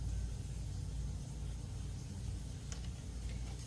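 Road traffic rumbles steadily in the background, a low continuous hum of passing cars with no voices.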